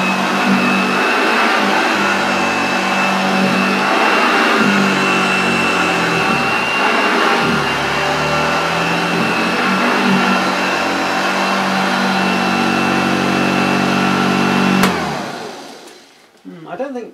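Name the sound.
vintage Hoover Junior 1346A vacuum cleaner running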